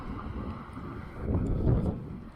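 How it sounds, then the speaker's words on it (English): Wind buffets the microphone in Central Park with a low, rumbling roar that swells and eases, steady throughout with no voices. "It's a little bit windy."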